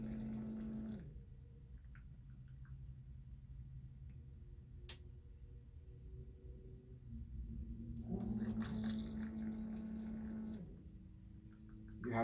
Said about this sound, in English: I'm going to fill the pot